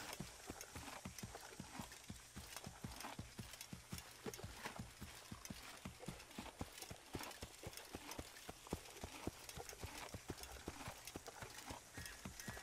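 Horse hooves clip-clop steadily and close in the Assassin's Creed video game while riding, a continuous brisk rhythm of hoofbeats with no talking over it.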